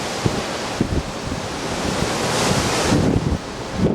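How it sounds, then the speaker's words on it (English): Ocean waves heard from the deck of a cruise ship in rough seas around New Zealand, a loud continuous wash of surf and roaring wind buffeting the microphone, with heavier swells surging past now and then. "I can take waves a lot bigger than this."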